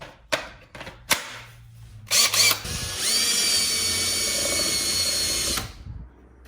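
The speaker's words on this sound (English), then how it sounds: "Drill the hole for my Rivnut." A few short bursts from a power drill, then a sustained high whine as it bores a hole through metal for a rivnut for a few seconds before stopping.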